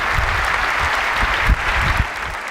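A keynote audience at Macworld San Francisco 2008 bursts into loud, sustained applause and cheering for the entrance of 20th Century Fox's chairman and CEO, a dense wash of clapping filling the hall throughout.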